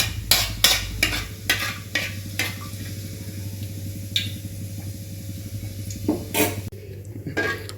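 Fennel seeds sizzle and crackle in hot oil for chicken gravy while a spoon stirs and clinks against the pan in several sharp taps.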